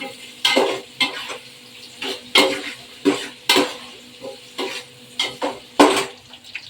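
Chicken curry masala fries in a pan with mustard seeds, sizzling under repeated scraping strokes of a spoon, a rhythmic series of stirs about every half second, close and clear with no talking.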